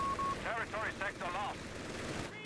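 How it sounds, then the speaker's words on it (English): Heavy machine guns fire in Company of Heroes 3, heard as several rapid rattling bursts in quick succession, close and prominent, before the shooting stops. "Locking down the right side of the map with these heavy machine guns."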